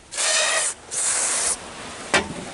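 Silicone spray hissing from an aerosol can onto worn rubber on a BMW E34 M50B20 engine, two sustained bursts of roughly half a second each, then a brief short puff near the end, close and clear.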